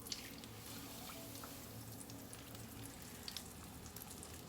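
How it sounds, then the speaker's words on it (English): Roti fries in hot oil in a pan, giving a quiet, even, steady sizzle with faint crackles and pops scattered through it and no talking. "Let's just put our roti in our oil."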